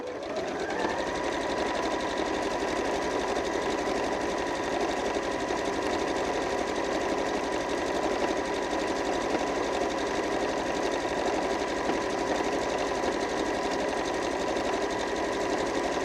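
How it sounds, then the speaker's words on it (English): A Janome QDC5270 sewing machine runs steadily while stitching a decorative edging, its motor whirring in a constant, even hum with a fine rapid needle chatter throughout, close and continuous. "the cams inside the machine will move your fabric backwards and forwards"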